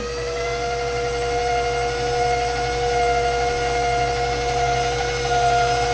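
An electric stand mixer whirs steadily as it mixes the dry ingredients for oatmeal raisin bars, a loud, constant motor hum with a high tonal whine that holds through the whole stretch.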